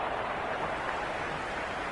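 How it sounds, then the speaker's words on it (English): A crowd cheering in a cricket stadium during a Big Bash League match after a near miss on a wicket, a broad continuous roar that stays loud and steady throughout, with no clear voices standing out. "Will you listen to that crowd?"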